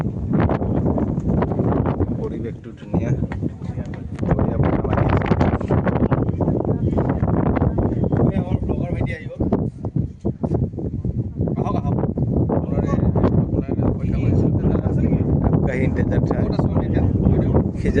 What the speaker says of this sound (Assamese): পৰিৱেশটো ধুনীয়া, বঢ়িয়া বতাহ মাৰি আছে